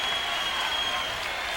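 A hometown basketball crowd at the Noble Complex in Shawnee, Oklahoma applauds during a timeout in a tight game, a dense, steady wash of clapping and cheering filling the arena, loud and sustained with no break.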